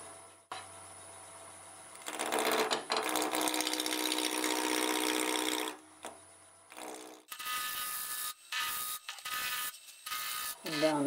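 A wood lathe spins at about 1,000 RPM while an inside-out ornament is turned, a steady close whir with a sustained tonal hum and scraping tool contact that pauses and resumes near the end.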